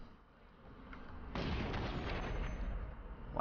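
Gunfire aimed at an enemy in the video game Watch Dogs, a burst of heavy sharp shots that swells into a sustained loud barrage with rumbling impacts.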